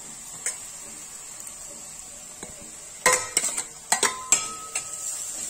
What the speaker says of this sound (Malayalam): ഇത് നന്നായി ഇളക്കുക.